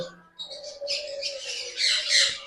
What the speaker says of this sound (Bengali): দেখুন পাইনাপেল কনুর একদম ফুল অ্যাডাল পাখি আছে